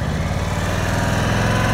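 A motorcycle engine runs at slow speed during advanced low-speed riding practice, holding a steady, close, loud putter with a low pulsing rhythm throughout and no talking over it.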